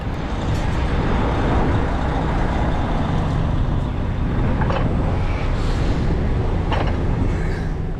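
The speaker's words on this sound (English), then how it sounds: "just like Gandalf in Lord of the Rings, the cement-pumping cavalry has arrived, driving to the middle of this farmer's field to fill up the entirety of the well shaft with impermeable cement." Heavy cement-pumping semi-trucks rolling across a farmer's field to a well shaft, a steady loud rumble of diesel engines and tires from start to finish with no pauses.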